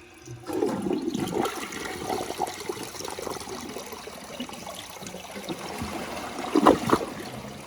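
A 2012 VitrA Evergreen toilet with a standard flapper flushes, a rushing swirl of water running steadily for several seconds, with a louder gurgling surge near the end as the bowl drains.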